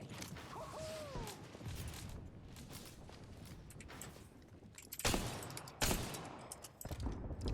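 Explosive blasts from an airstrike in the video game Apex Legends, rolling booms layered over steady gunfire-like bursts, with two sharp loud impacts near the end.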